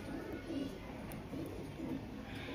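A Kasur breed pigeon coos in low, repeated rolling calls close by, with a steady hum of background noise underneath.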